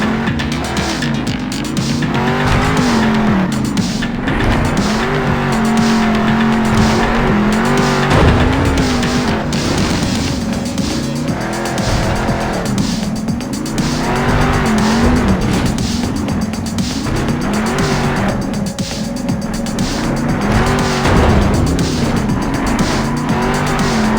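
A monster truck in the Monster Jam Steel Titans game on Nintendo Switch drives around and crushes crates. Its engine roars and revs loudly and continuously, broken by tire squeals and skids, with no one talking.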